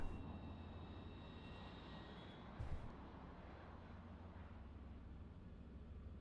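An aircraft engine passing overhead, heard as a steady, fairly loud low drone that holds for the whole stretch, with a brief swell partway through and no talking.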